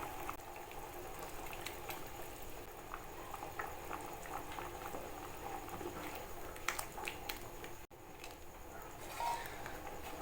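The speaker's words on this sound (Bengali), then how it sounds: "জলটা ভালো করে ফুটে গেছে।" Water boiling in a covered pot for a rustic vegetarian dish of jackfruit seeds and pumpkin greens: a soft, steady bubbling hiss with scattered pops, faint and continuous, and a brief dropout near the end.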